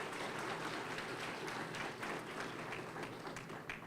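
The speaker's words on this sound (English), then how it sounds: "So give both of them a round of applause." An audience gives a round of applause for state legislators at a community COVID-19 question-and-answer session with the Arkansas governor: dense, continuous clapping, loud and close, lasting the whole moment.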